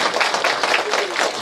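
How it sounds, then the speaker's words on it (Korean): Audience applauds at an anniversary ceremony of a provincial social service agency, a brief burst of dense, steady clapping from a crowd with a voice faintly under it. "우리 김호진 의원님 토론 잘하라고 박수 크게 하고"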